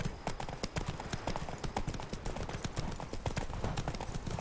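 Roach the horse's hooves clip-clop steadily in The Witcher 3, a rapid continuous trotting rhythm heard close and moderately loud over faint game ambience.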